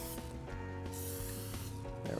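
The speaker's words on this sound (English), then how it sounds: "Let's shoot it with a gun, with a special spray gun." A hissing burst of cooking spray greases a baking pan for cinnamon rolls, heard as short airy sprays over a steady background hum, fairly faint and close.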